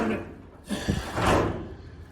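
Roll-up storage-unit style door on a pump equipment cabinet, a rattling metal slide with a couple of thumps and a longer rolling sweep, fairly close.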